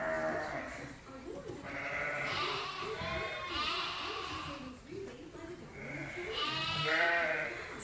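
Sheep bleat on a sheep farm, several overlapping wavering calls from a flock close by, continuous and loud, with a voice speaking among them.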